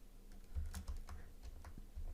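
Scattered computer clicks and keyboard taps come during play of Broken Sword: The Sleeping Dragon, irregular and close, with no talk over them.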